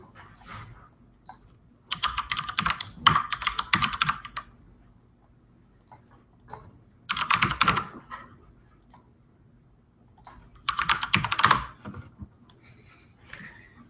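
Fingers typing on a physical computer keyboard in three separate bursts of rapid, close key clicks, with quiet pauses between them and no talking.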